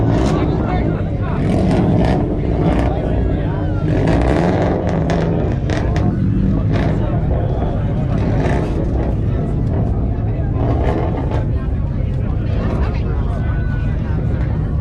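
A 2012 Subaru STI exhaust revving loudly at a car meet exhaust competition, a sustained roaring engine drone with rising revs, while people talk over it nearby.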